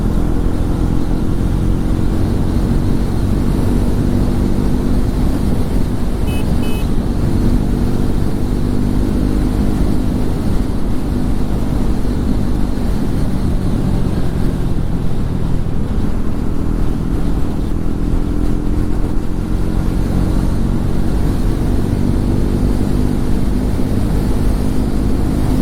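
Triumph Tracker 400 motorcycle at speed overtaking a Renault Duster, with steady engine drone, heavy wind rush and road noise that stay loud and continuous throughout, with no voices.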